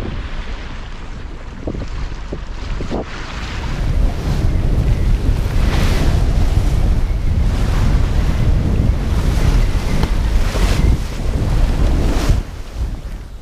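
Heavy ocean waves crash and roar under strong, gusting wind battering the microphone aboard a sailboat in open water offshore near Haugesund in about 30 knots, a dense, loud, continuous wash with no talking.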